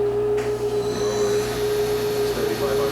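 Spindle of a Fadal vertical boxway machining center with a Fadal CNC control, running at steady speed with a constant mid-pitched whine over a low hum, fairly quiet, with brief voices nearby.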